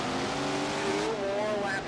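A sprint car engine roars continuously at high revs on a dirt oval in Tony Stewart's Sprint Car Racing, the pitch wavering and climbing as the throttle changes, loud and close throughout.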